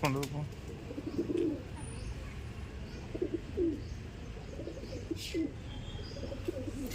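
Pigeons cooing as a male chases a female toward the nest, soft low coos repeated every second or so, with occasional chirps and a light wing flutter against quiet background.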